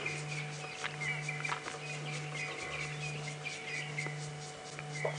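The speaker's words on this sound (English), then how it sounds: "A few birds calling, but it is still very hot" A few birds call on a hot afternoon safari drive, with thin, repeated chirps scattered over a steady low hum.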